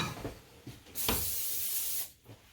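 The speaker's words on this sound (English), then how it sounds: "So a little coat with our non-stick spray." Non-stick cooking spray hisses onto a pan in one steady burst lasting about a second, close and fairly loud, with soft kitchen clatter before and after.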